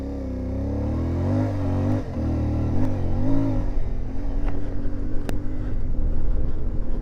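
An Ibex budget adventure motorcycle pulls away with traction control switched off, its engine note rising and dropping through steady revs, close and loud under wind buffeting.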